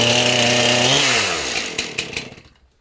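A chainsaw cuts through the floor of a ranch cabin during demolition, loud and close, running hard at first before its engine winds down and sputters into a few uneven revs and then stops.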